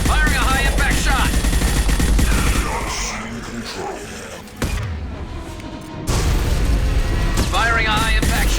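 Concussive high-impact shot fired in the Mass Effect 2 video game, loud booming blasts amid dense battle noise and game voices, with a brief drop in intensity before the action surges back.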